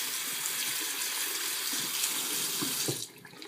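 Steady running water from a tap pours over and into an empty soda can as it is rinsed out, a continuous close splashing rush that cuts off abruptly near the end, leaving faint residual drips.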